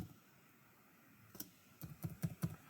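Typing on a computer keyboard while building a Weebly website: a short quiet run of soft keystrokes, then a cluster of five or six crisper clicks near the end.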